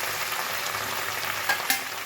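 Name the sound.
fried pointed gourd added to sizzling vegetable curry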